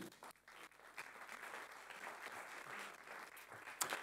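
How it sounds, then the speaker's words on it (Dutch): Applause from an audience at a Dutch language and health conference in Groningen, a steady soft wash of clapping that stays fairly faint and distant throughout, with no voices over it. "een hartelijk applaus willen geven"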